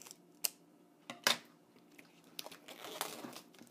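Scissors snipping into planner packaging, with sharp isolated clicks and cuts, then crinkly rustling of plastic and paper, close and quiet with no talking.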